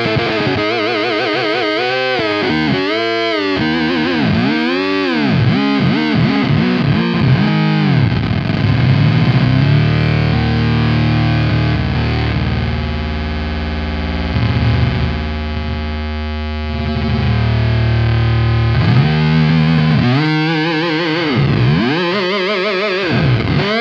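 An electric guitar plays through a Beetronics Swarm fuzz pedal, thick and distorted with swooping, warbling sweeps as the modulation is turned, loud and sustained with no talking.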